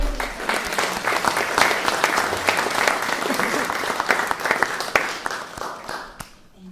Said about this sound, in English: I want to applaud our panelists for the very good